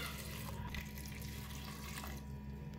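Water poured into a cooking pot holding banana blossom, onion and seasonings, a steady faint running and splashing flow with no speech.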